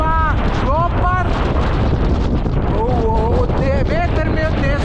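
Strong wind roars and buffets the microphone at a mountain lookout on the island of Rab, loud and constant while someone talks over it.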